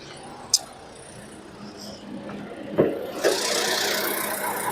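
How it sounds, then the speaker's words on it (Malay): A car engine idles smoothly with the bonnet open, a low, even hum broken by a couple of sharp clicks and a brief clunk before a brighter hiss rises. "engine memang running guys langsung tak gegar eh boleh dengar eh boleh dengar kan"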